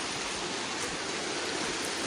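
A river rushes steadily, the Cinendang in Aceh Singkil, its broadband wash of flowing water loud and close with no break or voices.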